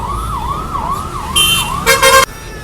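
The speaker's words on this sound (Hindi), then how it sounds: "बट जो एम्बुलेंस है वो पीछे ही रह गई है, कोई इसे रास्ता नहीं दे रहा है।" An ambulance siren wails in a rising and falling pattern, held up in heavy highway traffic, loud and close, followed by a few sharp horn blasts.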